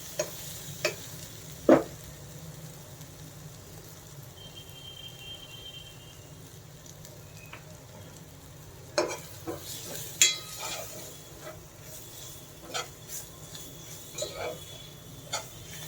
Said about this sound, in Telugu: బాగా వేగాలి, ఈ శనగపిండి పచ్చి వాసన పోయేదాకా వేగాలి